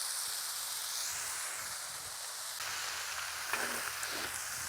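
Pork loin with Italian squash and zucchini sizzling on a griddle, a steady broadband hiss and crackle running throughout, close and continuous with no talk.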